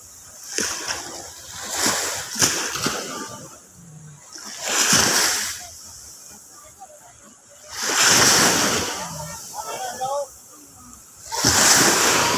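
Strong sea waves surge and crash in big roaring bursts every few seconds at the shore, with softer rushing water and wind in between.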